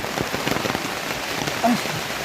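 Rain falling outside, a steady broadband patter with scattered drop hits across the whole stretch and a brief tonal sound near the end.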